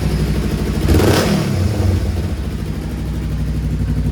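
A 2022 Kawasaki Versys 300 X with a Delkevic full exhaust, 14-inch oval muffler and spark arrestor fitted, idles loudly up close, swells in a quick rev around a second in, then settles back to a steady, slightly muffled idle.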